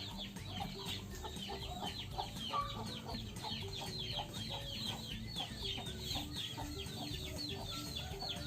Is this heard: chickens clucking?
yes